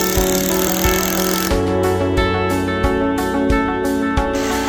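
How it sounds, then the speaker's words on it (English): A screw being driven at an angle into a wooden deck board as a toenail on a covered wood deck, a steady near power-driver whir with repeated rhythmic pulses, loud and close with no talk. "This is a toenail. When the screw goes in the board at an angle."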